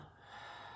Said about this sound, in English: and exhale.